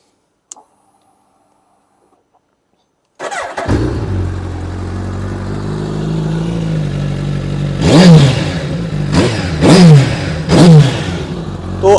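Suzuki Hayabusa Gen 3 motorcycle fitted with a Yoshimura exhaust starts up and settles into a deep, steady idle, then takes three sharp throttle blips that rise and fall, close and loud.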